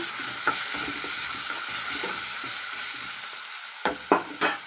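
A utensil stirs Andhra-style prawn curry with tomato, turmeric and salt in a pan, giving a soft continuous sizzle with a few sharper scrapes and clinks near the end, close by and with no talking.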